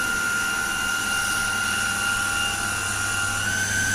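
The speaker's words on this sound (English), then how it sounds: "As you see, the jet has started and it is hitting the vane." Water jet striking a vane in a laboratory impact-of-jet apparatus, a loud steady hiss and roar with a constant whine from the rig's pump running underneath.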